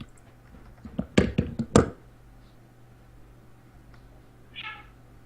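A house cat meows close by in a quick run of three or four loud cries, then gives one fainter meow a few seconds later in a quiet room.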